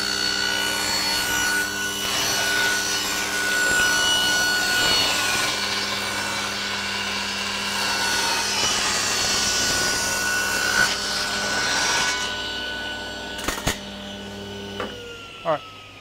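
A table saw rips a wooden board for a door jamb in a workshop, its motor whining loudly and steadily while the blade cuts through the wood, then spinning down with a few knocks and clunks at the end.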